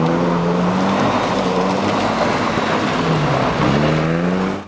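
A very light car with a new motor and overly wide road tyres drives on gravel, its engine droning steadily with a pitch dip and rise as it revs, loud and close the whole time.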